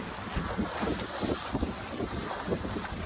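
A sailing boat out on the Solent, with wind buffeting the microphone and water rushing and splashing against the hull, a steady blustery roar with brief swells.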